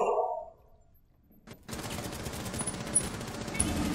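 Rapid gunfire crackles in a Rainbow Six Siege match, a sudden sustained burst of shots with a bright clatter following a brief voice and a near-silent pause.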